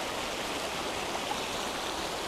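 A muddy, murky river flows past a riverbank during rain, giving a steady, broad rushing wash of water that holds an even level throughout without any voices.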